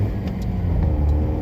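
A used car runs on a test drive, a steady low engine rumble with road noise, even and close, with slight rises in pitch as it pulls along.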